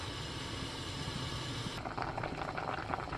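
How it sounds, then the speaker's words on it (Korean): Chestnuts boil in plenty of water in a pot, a steady rolling bubble and hiss heard close, growing rougher and more agitated partway through, with no voices. "물을 조금 넉넉히 넣고 끓기 시작하면서 30분 더 끓여줍니다"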